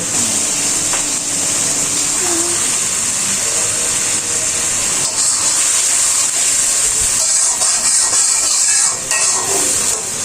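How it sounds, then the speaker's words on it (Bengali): Boal fish curry with fried potatoes and pointed gourd being sautéed in a pan, giving a steady, loud hiss and sizzle that runs throughout without pause. "এখন দিয়ে দিলাম ভেজে রাখা আলু এবং পটল ভালো করে কষিয়ে নেব"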